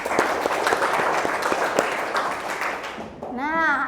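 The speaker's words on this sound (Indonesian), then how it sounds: "tepuk tangan untuk kita semua." Schoolchildren in an Indonesian classroom clap together in a brisk round of applause, dense and close, fading after about three seconds as a voice or singing rises at the end.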